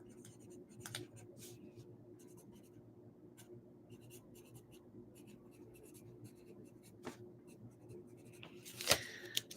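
A pen scratches across paper in a quiet room, with steady soft strokes and brief pauses, faint and close, ending in a few sharper scribbles.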